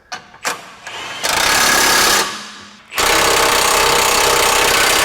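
Loud, close bursts from a power tool hammering suspension bolts tight on a Honda Ridgeline lifted with a 4.5 inch kit, one long run of rattling impacts after a few short blips, then another sustained burst.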